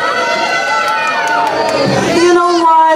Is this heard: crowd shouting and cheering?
yes